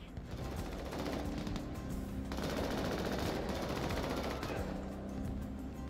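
Heavy automatic gunfire from the video game Crossfire, a dense continuous barrage of rapid shots that fills the clip at a loud, steady level with no gaps.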